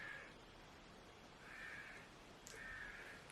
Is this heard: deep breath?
no